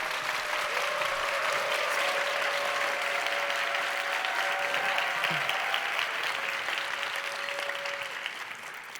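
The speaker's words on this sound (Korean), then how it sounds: "박수로 모시겠습니다." A church youth-group audience gives sustained, dense applause to welcome a guest speaker to the stage, a steady wash of clapping that holds evenly and fades slightly at the end.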